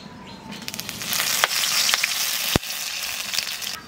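Bay leaves and black cumin seeds drop into hot oil and sizzle loudly and steadily, with a few sharp crackles and pops over the continuous hiss, heard close up.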